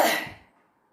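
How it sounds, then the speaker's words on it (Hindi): A single short, harsh cough from red chili while cooking pasta, close and fairly loud, fading quickly into silence. "उसी का नतीजा है कि मुझको खांसी आ गई"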